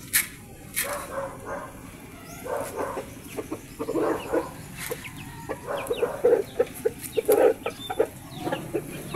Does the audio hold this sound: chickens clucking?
yes